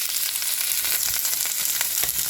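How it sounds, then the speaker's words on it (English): Onions, garlic and red pepper fry in a pan for Mongolian beef, a dense, loud, continuous sizzle with crackling pops close up and no talk. "we are going to put that ton of onions that we have cut up in here to cook"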